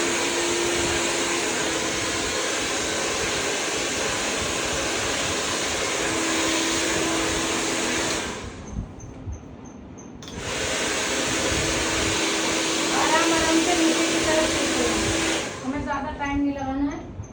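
A blow dryer roars steadily while drying hair with a flat brush, cutting off briefly then resuming; a person talks over the constant loud airflow near the end.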